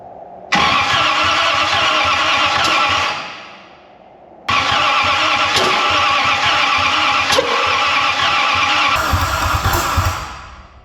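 A 1940 Dodge DeSoto Hemi engine cranks in two long, loud bursts separated by a short pause, backfiring through the carburetor, with a rough, churning starter rhythm close by and no talking.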